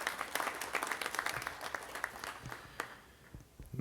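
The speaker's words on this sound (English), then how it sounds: "So give one more time a round of applause for David Lemieux and his team." Applause from a press conference audience for boxer David Lemieux and his team, a scattered, moderately distant clapping that thins out toward the end.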